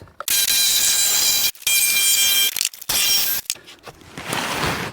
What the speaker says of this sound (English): I'm going to try it with my Sawzall from the inside here